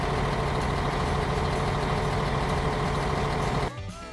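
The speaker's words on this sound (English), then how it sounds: "Coach." A coach engine idles with a steady, heavy low rumble for almost four seconds, then drops away, leaving a brief quieter tail.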